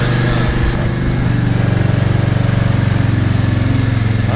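A Suzuki Ozark ATV engine, freshly cleaned and tuned, idles loud and close with a steady, rapid, even putter and no voices over it.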